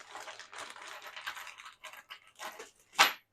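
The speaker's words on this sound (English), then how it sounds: "First, we're going to throw the screws around." A handful of small metal screws tossed and scattered across a surface while assembling a pair of plant stands, giving a string of light clinks and rattles that ends in one sharper, louder clatter, close and alone.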